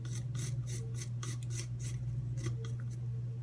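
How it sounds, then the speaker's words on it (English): A lemon being zested on a kitchen grater: a quick series of close, crisp scraping strokes in an uneven rhythm, over a constant low electrical hum. "Zest the lemon."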